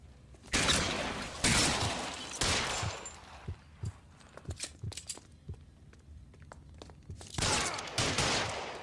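Gunfire in the video game LA Noire: several loud shots in quick succession, then a stretch of scattered smaller clicks and impacts, then another burst of shots near the end.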